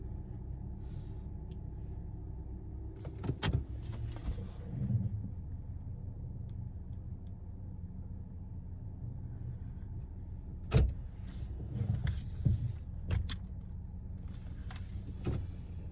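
Steady low road rumble fills the cabin of a moving car in Memorial Day weekend traffic, with a few brief clicks and knocks from inside the car over the continuous drone.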